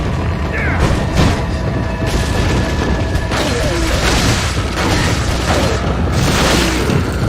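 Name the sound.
grenade explosion in video game Resident Evil 4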